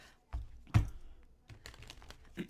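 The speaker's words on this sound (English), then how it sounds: "So I'll shuffle this deck here a few times" A few short bursts of crisp rustling and flapping as a tarot deck is shuffled close by, separated by quiet pauses, with no talking.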